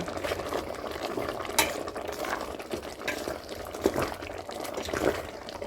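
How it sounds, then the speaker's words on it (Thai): Bamboo shoot curry bubbling in a pot, a continuous watery burble with gurgles and pops close by, no speech. "ว้าวเดือดปุ้นปุ้นหอมกระจา"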